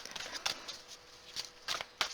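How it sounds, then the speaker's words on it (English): Tarot cards being shuffled by hand, a series of crisp riffling bursts at irregular intervals, close and fairly quiet with no talking over them. "Let me just get your cards shuffled so they feel right"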